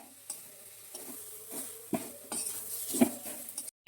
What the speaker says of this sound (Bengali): এবার নাড়াচাড়া করে পুরটা বানাবো তখন।